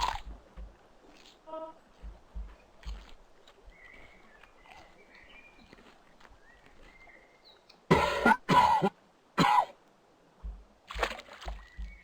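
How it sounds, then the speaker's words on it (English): A loud, harsh cough bursts out in the PSX-style puzzle game Fatum Betula, two or three rough hacks close together over quiet, sparse game ambience with a few soft thuds. "I don't know why that cough is so loud."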